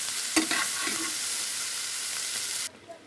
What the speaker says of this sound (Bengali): পটল দিয়ে কাঁচামরিচ দিয়ে টমেটো দিয়ে ভেজে নিচ্ছি।